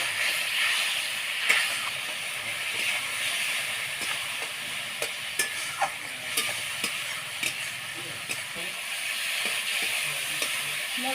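Spice paste with salt and half a spoon of turmeric sizzles steadily in a hot pan as water goes in for an egg curry, a constant bright hiss with faint stirring clicks and no talk.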